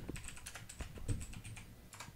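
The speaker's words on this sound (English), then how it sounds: "What are you typing?" Quick clattering keystrokes on a computer keyboard come in uneven bursts across the whole stretch, fairly close and moderately loud with no voices.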